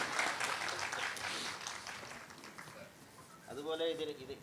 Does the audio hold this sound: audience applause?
yes